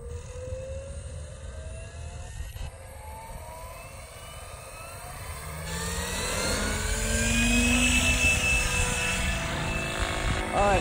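A radio-controlled X7 800 helicopter hovers, its rotor and motor giving a steady whine that swells louder and fuller after the first few seconds, close by, with a person talking over it.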